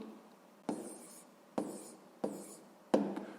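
Numbers are written by hand during a sixth-grade maths lesson, four distinct strokes at an even pace, each a short scratchy burst followed by a faint trailing rub, close and quiet with no voices.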